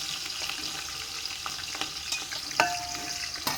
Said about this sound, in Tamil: நல்லா பொன்னிறமாக வர வரைக்கும் நல்லா வணக்கிக்கலாம்.